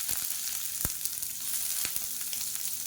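Long-sliced onion sizzles in hot oil with cardamom, cinnamon and cloves, a steady, even frying hiss broken by a few sharp pops and stirring clicks.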